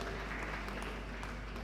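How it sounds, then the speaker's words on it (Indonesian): Audience applause at a church work-meeting opening in Jayapura, a steady, dense wash of many hands clapping at once, fairly quiet and continuous with no pauses. "Tepuk tangan dulu untuk nilai-nilai yang luar biasa itu."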